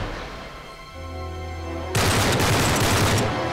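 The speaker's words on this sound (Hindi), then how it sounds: "गोलियां चल रही है उधर से" Gunfire in the video game Uncharted 3: Drake's Deception, a dense continuous fusillade that bursts in loudly partway through after a low droning buildup, sustained and close with no talking.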